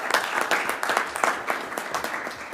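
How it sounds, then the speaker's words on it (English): Applause from the audience at a city council meeting, a steady wash of many hands clapping with some louder claps near the front, carrying on throughout. "I want a little bit of a round of applause for this group."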